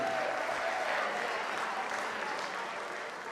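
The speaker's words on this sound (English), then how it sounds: "Can you put your hands together one more time for Casey and Katie?" Wedding guests applauding the couple at a reception, a full, even round of clapping from the room that stays steady throughout and eases only slightly at the end.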